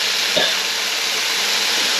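Chopped pork belly sizzles and stir-fries in a Teflon pan for an old-style stir-fry dish, a loud, steady hiss that runs unbroken the whole time.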